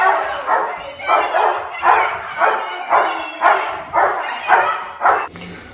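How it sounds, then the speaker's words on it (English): A residential protection dog gives a warning bark, about nine loud, deep barks in a steady, even rhythm, close by and with no talking over them. "Let him bark properly."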